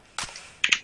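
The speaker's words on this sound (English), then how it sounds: "I like the burst fire from us." Burst-fire gunshots in the video game CS:GO, two short sharp bursts of cracks heard close and fairly loud, separated by a brief pause.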